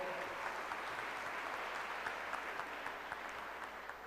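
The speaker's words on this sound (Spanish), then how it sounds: "Un fuerte aplauso, por favor." Sustained applause from an audience at a national oratory contest as a jury member is introduced, a continuous even wash of many clapping hands, faint and distant.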